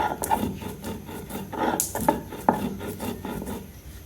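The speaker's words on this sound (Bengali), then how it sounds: "তো আমি পাটার মধ্যে এগুলো গুঁড়ো করে নিচ্ছি।" Spices are crushed on a pata, a flat stone grinding slab, in irregular gritty scraping and rubbing strokes with occasional sharp knocks, close by and moderately loud, with no speech.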